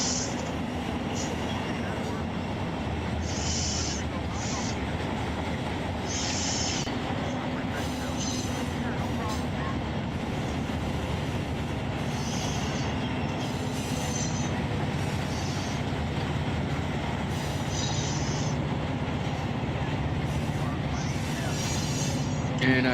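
An intermodal unit train, about 8,000 feet long, rolls steadily in the RUN8 train simulator game, producing a continuous, dense rumble of wheels and cars with occasional higher squeals and clatter throughout.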